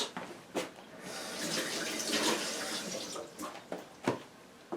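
Tap water runs steadily into a sink while salted olives are rinsed under it, a continuous close splashing flow with a few sharper bursts and a single brief spoken word.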